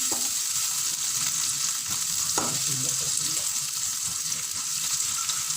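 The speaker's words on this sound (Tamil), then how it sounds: "எனக்கு தேவையான அளவு பாதி வெங்காயம் போட்டுக்கணும். நல்லா வதக்கிக்கணும். நல்லா பொன்னிறமாக வர வரையும் வதக்கிக்கணும்." Sliced onions sauté in hot oil in a pan for an appam egg gravy, giving a steady, close sizzle with occasional stirring scrapes throughout.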